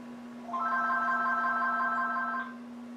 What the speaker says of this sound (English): I had a phone call interrupt me there